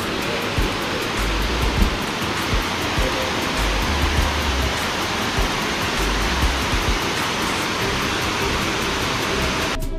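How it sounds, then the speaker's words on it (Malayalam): A small waterfall near Mullayanagiri Peak pours over steps in a loud, steady, broadband rush that continues throughout, with faint low thumps underneath and no talking. "ഒരു കുഞ്ഞൊരു വെള്ളച്ചാട്ടമുണ്ട് സ്റ്റെപ്സിൽ കൂടെ ഒഴുകുന്ന വെള്ളച്ചാട്ടം"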